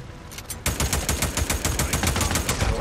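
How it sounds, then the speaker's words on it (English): Rapid automatic gunfire in the video game Days Gone bursts in after a brief lull and keeps up a steady, loud rattle of shots to the end. "Can you stop shooting at my teammates, buddy?"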